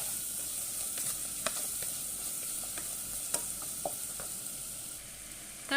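Chicken and vegetables fry for egg fried rice, a steady close sizzle with occasional scraping clinks from stirring in the pan.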